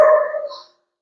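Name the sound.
dogs barking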